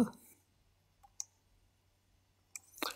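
Computer mouse clicks while working in Studio One music software, a few sharp, quiet isolated clicks spaced apart, with a louder double click near the end against a near-silent room.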